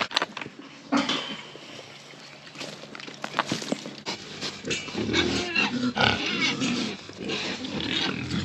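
A small group of farm pigs grunt and oink around their feed, with irregular close snorts and squeals over shuffling hooves and occasional clatter, with no speech.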